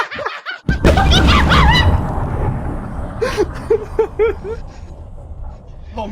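A rocket blows up in Kerbal Space Program: a sudden loud boom bursts in, followed by a rumbling roar that slowly fades, while several people talk, laugh and shout over it.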